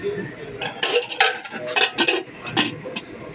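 A metal pot of kabuli chickpeas is handled on the stove, with several sharp clanks and scrapes of metal and utensils at close range, irregular and fairly quiet.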